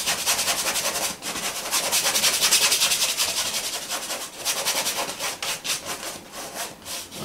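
An old paintbrush with worn bristles scrubs dark paint onto a painting, giving a steady, close, raspy brushing hiss in repeated strokes with short pauses and no talk.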